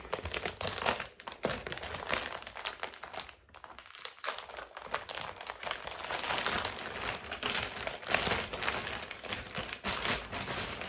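Plastic bag packaging from a waterproof queen-size mattress protector crinkles steadily and up close, a continuous rustling and crackling handled for several seconds with no talk.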